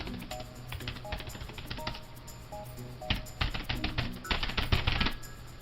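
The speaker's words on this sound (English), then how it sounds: "And now some keyboard ASMR." Fast typing on an older Dell Inspiron laptop keyboard, a dense stream of close, crisp key clicks that grows busier and louder toward the end, with no talking.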